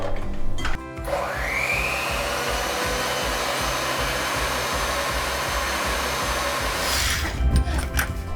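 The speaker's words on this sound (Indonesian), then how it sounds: "Lalu kita mixer ya." An electric mixer whirs steadily as it kneads bread dough mixed with a little yeast, starting up with a rising whine, then holding a loud, even drone with a rhythmic thumping before shutting off.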